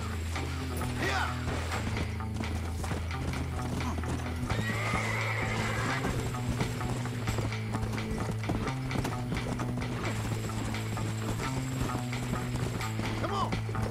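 Horses in Red Dead neigh and whinny repeatedly over steady clip-clopping hooves, set against a dense, mechanical game soundtrack with occasional voices.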